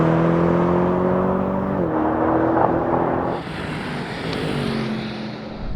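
BMW M850i engine pulling hard under acceleration in a rolling race against a Tesla Model 3, a steady loud drone with harmonic tones that dip briefly as it shifts, then continue with wind rush.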